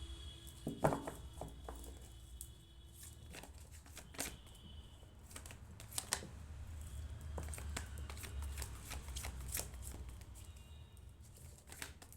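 Tarot cards being shuffled by hand, a series of quick crisp riffles and soft slaps at an irregular rhythm, close and fairly quiet with no talk.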